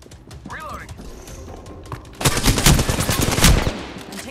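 Rapid gunfire from an Apex Legends match, a fast burst of shots from about two seconds onward, loud and close, with faint in-game voice lines and effects in the quieter stretch before it.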